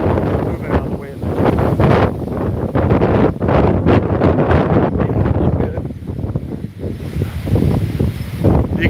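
A strong wind gust of about 50 miles an hour tears through the area during an Oregon wildfire, a loud continuous roar with buffeting against the microphone.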